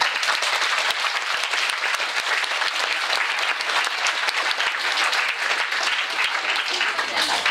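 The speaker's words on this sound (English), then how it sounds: "So can everybody just please have a round of applause?" A science fair keynote crowd applauds, loud continuous clapping from many people held evenly for over seven seconds, close and full with crisp individual claps within the roar.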